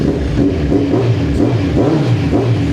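A Kawasaki Z1000 R motorcycle with an inline-four 1000cc engine and a new exhaust revs up close and loud in repeated rhythmic pulses that rise and fall, with no talk.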